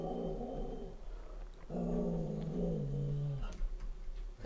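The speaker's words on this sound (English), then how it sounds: "My dog loses her mind." A pet dog growls and snarls at a passerby outside, a low rumbling growl rising into a sustained whine-like snarl, fairly close and alone without talk.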